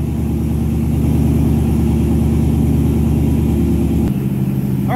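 A 2022 Ram 1500 pickup fitted with a Borla S-Type exhaust idles just after a cold start, giving a steady, deep, mellow rumble that holds close and loud, with a slight shift in tone near the end.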